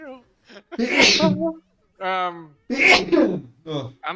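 A single sharp sneeze bursts out among people chatting during a tabletop role-playing session, with voices talking before and after it.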